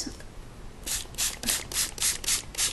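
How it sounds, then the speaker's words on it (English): A series of short, breathy hissing bursts from a spray bottle of water onto paper masked for watercolor, about eight quick pumps in steady rhythm, close and fairly soft. "give that a good spray."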